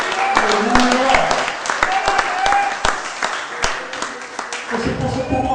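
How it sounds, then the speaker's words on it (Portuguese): Congregation at an evening church service applauding in praise, a broad wash of many hands clapping at moderate distance, steady and dense, with a voice and some music-like tones underneath. "vamos poder aplaudir o Senhor nessa noite"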